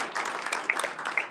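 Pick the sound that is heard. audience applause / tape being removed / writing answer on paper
audience applause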